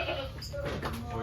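Goats on a farm, a short bleat rising above background chatter as people talk nearby.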